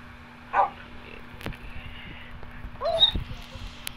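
Two short bursts of small yipping barks from puppies in Minecraft sound a few seconds apart over a quiet background hum.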